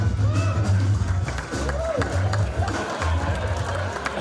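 Comedy club audience at a live stand-up show applauding and cheering for the next comic, a dense, loud crowd roar with a low rumble throughout.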